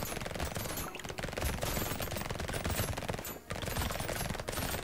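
Rapid SMG gunfire from the video game Brotato, a dense unbroken stream of quick shots with game effects, loud and close throughout, with only a brief break near the end.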